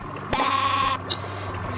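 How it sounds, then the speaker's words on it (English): A cartoon sheep in the Spy Fox 2 video game lets out one loud, wavering bleat, followed by a brief quieter sound over a steady game background. "Stereo sheep."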